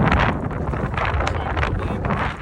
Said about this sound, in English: Wind's got me, so we'll see.